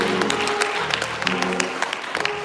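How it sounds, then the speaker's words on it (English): A church congregation claps over sustained organ or keyboard chords, the clapping loose and irregular and mixed in with the music. "Somebody give a hand clap."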